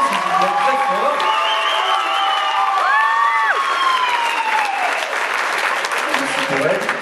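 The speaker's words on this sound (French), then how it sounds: "je vous demande d'applaudir, si vous êtes très fort" Loud, steady applause from a concert audience at the Roiffieux public school event, with scattered cheers and whoops over seven seconds and a few voices calling out within the crowd noise.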